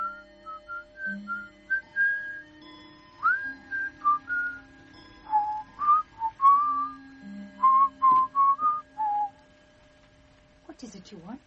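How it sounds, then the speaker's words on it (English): Someone whistles a simple tune indoors, a series of clear short notes and phrases in a quiet room, fairly close, with a faint hum behind and a brief sound at the end. "I was just whistling"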